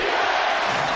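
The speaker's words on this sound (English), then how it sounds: "Crowd loving it." A crowd at an NBA basketball arena, Clippers against Pacers, gives off a dense, loud roar of cheering that fills the whole moment with no break.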